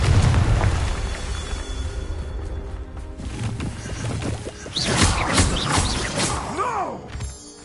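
A Confringo spell blast explodes in the Hogwarts Legacy video game, a loud, booming fiery burst with crackling debris layered over continuous game sound and music.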